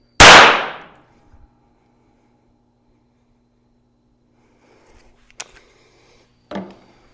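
A SIG P320 pistol fires once in a loud, sharp, close report. The sound decays over about a second. Small metallic clicks and a short clatter follow several seconds later, with no voices.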